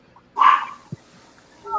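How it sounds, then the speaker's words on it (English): A dog barks once nearby, a loud short burst, followed by a faint low thump and a brief higher tone at the end in an otherwise quiet room. "You hear the dog? They're barking."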